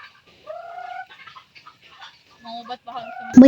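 Pet chickens cluck in short, faint bursts scattered across the clip. A louder squawk comes near the end.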